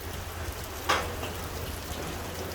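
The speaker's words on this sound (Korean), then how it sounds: "비가 오고 있어요" Rain falling along the coast at Dodong harbour on Ulleungdo island, a soft steady patter with one brief louder splash near the start, distant and fairly quiet.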